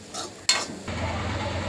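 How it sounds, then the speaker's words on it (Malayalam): Coconut mixture stirred in a pan for an egg curry, a few brief scrapes and a sharp clink of the spoon on metal followed by a steady low frying hiss, close by with no talk. "കൈവിടാതെ ഇളക്കിക്കൊണ്ടിരിക്കണം"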